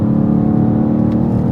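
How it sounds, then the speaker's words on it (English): BMW G87 M2 engine note with the exhaust valves open in sport mode, a steady, loud, close droning hum with a dense low rumble through the whole short stretch; no voices. "The valves open on the exhaust, it sounds slightly fruitier. It's got overrun burbles"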